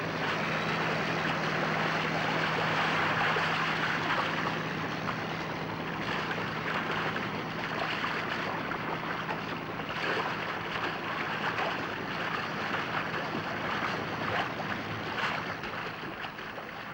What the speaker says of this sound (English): The boat is free, its powerful engines roar into life, and it surges forward, leaving the tractor behind.